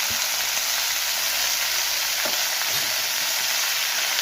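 Spinach fries in a pan for palakura ulli karam, a dense, even hiss of sizzling oil held close and loud for the whole stretch, with a faint stir or two underneath.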